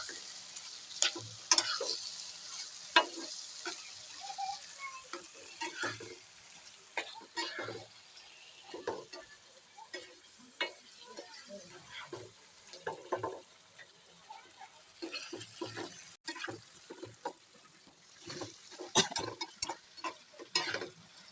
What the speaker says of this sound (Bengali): পূর্বে সিদ্ধ করা ছিল সেই কচু শাকগুলো আমরা দিয়ে দিচ্ছি ধীরে ধীরে মশলার সাথে মিশিয়ে নিই